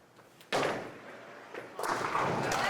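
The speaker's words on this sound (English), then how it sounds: "First strike on the board for Matt." Bowling ball crashing into pins for a strike at a professional championship match, two rising clattering impacts, the second louder and sustained, heard at a distance under faint hall ambience.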